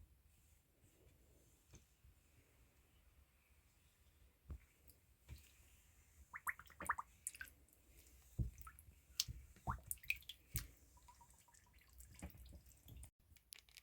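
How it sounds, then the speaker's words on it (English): Soaking yarn in a bowl of water releases small bubbles that pop and crackle faintly and irregularly, scattered tiny ticks and fizzy snaps growing busier after a quiet start. "The bubbles coming out sound like Cocoa Pops."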